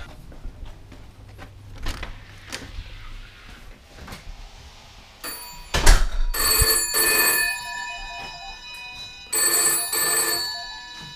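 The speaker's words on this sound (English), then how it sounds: "Your phone's ringing, by the way." A phone rings in a park setting, its bright electronic ringtone bursting in loud repeated bursts over a quieter ambient start.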